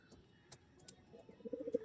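Pigeons coo softly in a loft of tournament-flown racing pigeons, a few low murmuring coos building toward the end, fairly quiet and close with faint background clicks.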